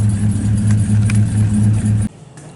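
A supercharged LS383 Chevrolet Silverado pickup idles and creeps into a garage, its steady low engine rumble loud and close before cutting off abruptly near the end.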